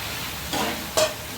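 Green chilli and sugar spice paste sautés in a pan with a short, steady sizzle broken by two quick stirring scrapes.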